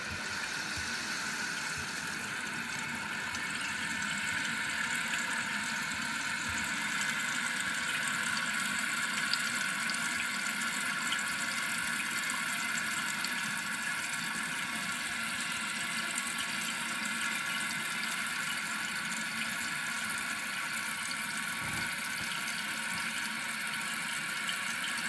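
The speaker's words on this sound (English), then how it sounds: "I'm going to turn the water back on. Down here at the bottom. So I'm going to turn this counterclockwise. And it should start to refill with water again." A Kohler toilet with a canister-style flush valve refills its tank after the supply is turned back on, giving a steady, continuous hiss and rush of water that stays even and fairly loud throughout, with no talking.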